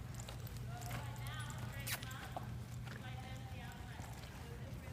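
Horse hooves on a loping horse, a steady rolling clip-clop rhythm running throughout at moderate distance, with a riding instructor's voice talking over it in places.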